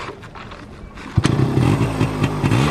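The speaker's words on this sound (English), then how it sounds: "So now we'll start the motorcycle." A Yamaha RX motorcycle engine fires up after clattering cranking, catching at once into a loud, close, rough two-stroke idle with uneven pulses.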